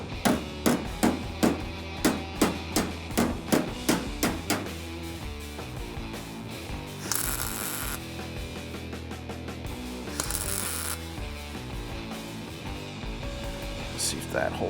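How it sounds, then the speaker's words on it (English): Body hammer striking rocker panel metal on a 1973 Dodge Charger, a run of about ten sharp, evenly spaced close metallic blows, followed by quieter shop clatter and handling noise. "So I'm gonna grab a hammer, a body hammer, just to flatten that down"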